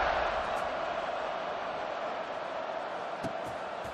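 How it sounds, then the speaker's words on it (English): Football stadium crowd buzzing after a score, a dense continuous murmur and roar of many voices at an even, sustained loudness, with no single voice standing out. "this crowd is buzzing after that last score"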